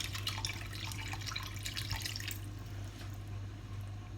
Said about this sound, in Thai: เราจะเติมน้ำลงไปเลยค่ะ